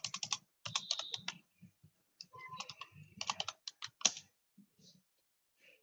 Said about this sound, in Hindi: देखिए इसमें हमने टाइपिंग भी किया